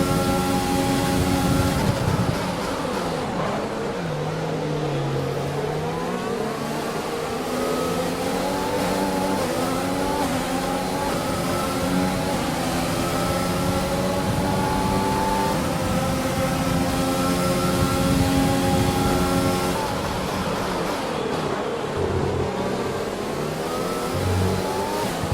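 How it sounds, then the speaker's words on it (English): A Formula 1 car's internal combustion engine in F1 2020, worn down and on the edge of failure, revs hard and steadily, its pitch rising through gear changes in a loud, continuous whine with no voices over it. "We've reached a worrying level of wear on the internal combustion engine."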